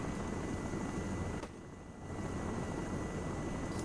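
Chinook helicopter in a military simulation game, a steady loud broadband rotor and engine roar filling the whole clip, briefly dipping in the middle before returning, with no talk over it.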